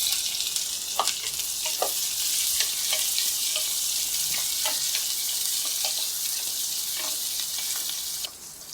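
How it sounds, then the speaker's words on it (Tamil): Sliced onions fry with whole spices such as star anise in an oil-filled pan, a loud, dense, steady sizzle with scattered stirring scrapes throughout, the hiss briefly dropping near the end. "அதில் வெட்டி வச்சிருக்கிற வெங்காயத்தை ஆட் பண்ணிடலாம்"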